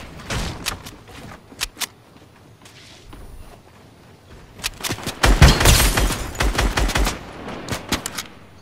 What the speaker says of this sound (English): Hear that gunshot?